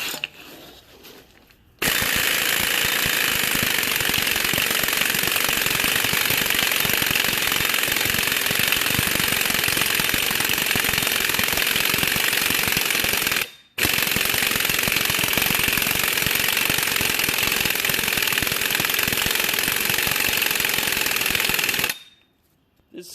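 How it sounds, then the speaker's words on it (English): An impact wrench with a 32mm socket hammers on a Honda Accord wheel bearing nut, a loud continuous rattling burst running about twelve seconds, a brief pause, then another long sustained run before cutting off. "Now, I'll take my impact with a 32mm socket."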